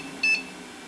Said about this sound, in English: Nope, still beeping.